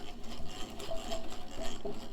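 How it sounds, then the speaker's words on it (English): A steady mechanical whir of a power drill boring into wood with a depth stop, continuous and fairly close, with a slight rise and fall in pitch throughout. "I'm just going to drill that."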